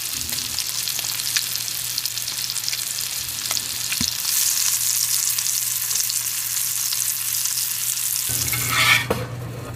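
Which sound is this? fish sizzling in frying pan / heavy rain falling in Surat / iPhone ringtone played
fish sizzling in frying pan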